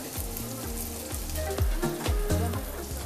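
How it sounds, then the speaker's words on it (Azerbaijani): Paneer frying in oil in a pan for a vegetarian dish, giving a steady close sizzle with soft crackles and stirring sounds throughout. "tavaya artıq pendirimizi yağla bərabər atırıq"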